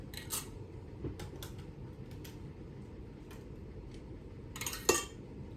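Glass canning jars of home-canned ground sausage and ground turkey set down into a pressure canner, a few faint clinks and knocks over a steady low hum, with a sharper clank near the end.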